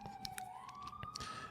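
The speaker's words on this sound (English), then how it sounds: "Sorry about the sirens." Police sirens wail outside on a city street in Seattle, a steady wavering tone at middle distance over faint background hiss, with no one talking.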